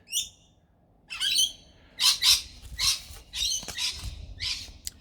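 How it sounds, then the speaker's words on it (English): A rosella parrot calls in an Australian cottage garden, a run of sharp chattering squawks and chirps in short irregular bursts, moderately close against a quiet background, with no talking. "That's a rosella in the background you can hear."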